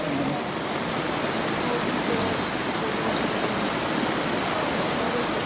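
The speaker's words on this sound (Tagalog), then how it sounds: "Grabing baha, oh." Flash floodwater rushing down Bernardino Street, a loud, steady broadband roar of fast-moving water that fills the whole clip without letup.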